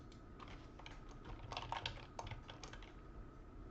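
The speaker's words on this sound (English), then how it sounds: "Type whatever you'd like to type." Keystrokes on a computer keyboard as text is entered into a web form, a quiet run of close, uneven clicks with a few quicker bursts in the middle, no voices.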